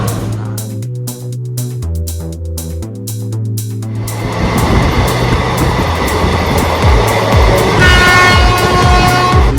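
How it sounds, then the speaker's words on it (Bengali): A Kolkata metro train at Kalighat station, loud and close: a long horn blast followed by rising rumble and rattling of cars moving along the platform. "আমরা এখন মেট্রো স্টেশনে কালীঘাট মেট্রো স্টেশনে"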